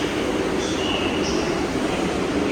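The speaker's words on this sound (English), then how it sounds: "Here's another shuttle train right there." A subway shuttle train at Times Square–42 Street station in New York, loud continuous rumble of the train running close by, with faint metallic squeal from the wheels on the rails.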